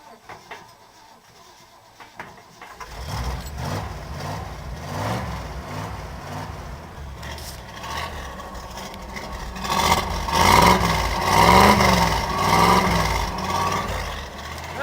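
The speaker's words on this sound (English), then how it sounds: "Okay, well, we got it running." A 1968 Ford Bronco, fed starter fluid after sitting unused for about a year, cranks and catches, then settles into a rough, uneven idle that swells louder with revs, heard close and alone.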